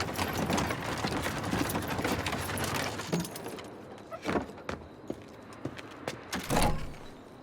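Horse hooves clip-clop on a street in Assassin's Creed Syndicate, first as a busy, continuous clatter with carriage rattle, then thinning to a few separate, louder hoof strikes near the end.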